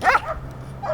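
A dog gives a single sharp bark at the start, followed by a quieter yip near the end over low background hum.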